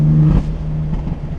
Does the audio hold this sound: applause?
no